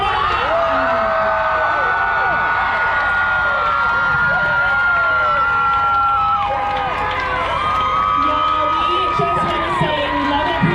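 Large outdoor crowd at a rockabilly car show in hot sun cheering for the newly crowned queen, with sustained loud whoops, shouts and applause that carry on throughout, voices mixed in.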